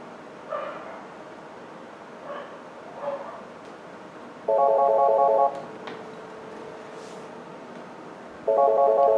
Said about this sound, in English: Incoming calls will ring on the first available appearance button.